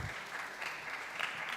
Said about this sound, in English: Let's give again a big applause for Professor Nurak Danurak